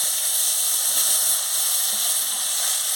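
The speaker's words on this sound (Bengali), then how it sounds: "এবার আমি তেলটা গরম হয়ে গেছে, আর আলুটা দিয়ে দিচ্ছি।" Potatoes frying in hot oil after fish has been fried in it, giving a steady, bright, continuous sizzle and hiss, close and even, with no talking.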